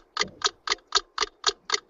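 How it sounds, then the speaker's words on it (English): A ticking clock that sounds like a time bomb, seven crisp, evenly spaced ticks about a quarter second apart, close and clear with no other sound. "is that a ticking time bomb?"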